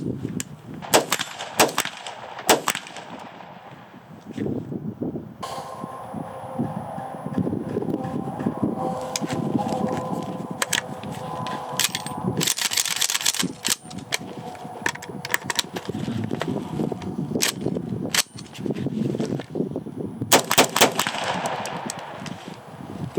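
An M+M M10X rifle fires a few sharp, loud shots with metallic clanks and pauses between them at an outdoor range, with no talking.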